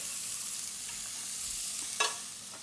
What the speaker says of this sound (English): Into this, I have small little button mushrooms. All I'm going to do is just literally cut them in half. Before I do that, just give them a little stir.